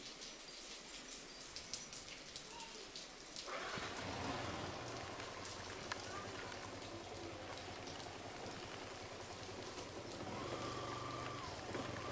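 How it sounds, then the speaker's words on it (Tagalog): Heavy rain pours down in a dense, constant roar that swells louder after a few seconds, a steady close downpour with no voices. "Lakas ang ulan."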